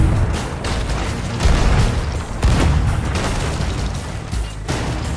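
Cannon fire during a ship battle in the pirate video game Sea of Thieves: repeated booming blasts and bursts over a dense, continuous din of combat noise, with no clear talk.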